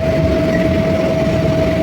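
A steady rumble of a metro train running, with a constant high whine over the rolling noise, continuous and fairly loud.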